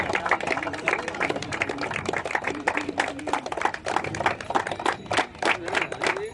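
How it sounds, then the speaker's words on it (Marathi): A crowd claps steadily and continuously at a Dodavli Premier League 2026 cricket awards function, with the applause carrying on for several seconds while a voice is faintly present beneath it. "जोरदार टाळ्या वाजवायच्या आहेत"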